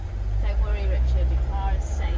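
An Ineos Grenadier five-seat station wagon with the 3-litre diesel engine drives along with a low, steady engine rumble, and a voice is heard over it.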